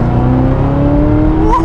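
A Chevrolet Corvette C6 ZR1 pulls hard in second gear, heard from inside the car as a loud, steady engine drone that rises in pitch over the short stretch before a shift at the end.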